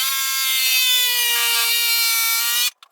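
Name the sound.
cutting out a plastic router table insert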